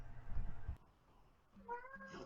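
Cat meowing indoors during a casual online talk show, a short rising call near the end after some low rumbling handling noise, close and fairly clear.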